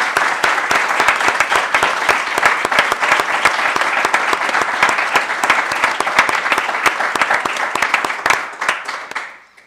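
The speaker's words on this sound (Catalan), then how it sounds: "Demano un fort aplaudiment per elles." A large crowd applauds steadily with dense, loud clapping that holds for several seconds, then quickly fades out at the end.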